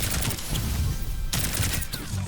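Rapid bursts of gunfire from Tracer's twin pistols in Overwatch, fired in short controlled volleys with a brief gap between them, loud and close.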